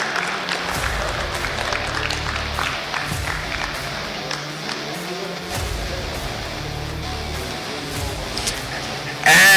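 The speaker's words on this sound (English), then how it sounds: "Massive round of applause to him." An esports crowd on a main stage applauds a podium finisher with dense, sustained clapping and scattered cheers, steady throughout and swelling sharply right at the end.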